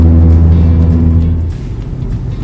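Car tyres rolling over a rumble strip on the Ganga Expressway give a loud, close rumbling drone inside the vehicle that drops away after about a second and a half, leaving quieter road noise.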